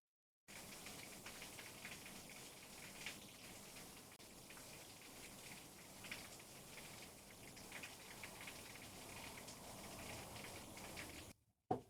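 Rain falling outside, a steady soft hiss of drops pattering on surfaces for about eleven seconds, faint and even, with a brief bump at the very end.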